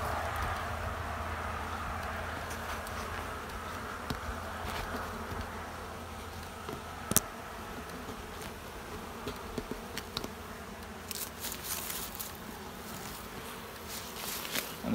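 Honey bees hum from an opened hive with a good brood chamber, a steady, dense buzz close by that holds throughout, with a few sharp knocks and brief rises as individual bees pass.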